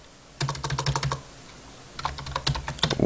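Close computer keyboard typing during a Windows 7 USB install: two quick bursts of crisp key clicks separated by a short pause, loud and clear with no talking.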